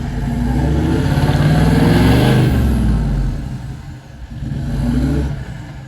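A Toyota Land Cruiser engine revs hard and steadily for several seconds as it strains to pull down a tree, dips briefly, then surges again, loud and close outdoors with no talk.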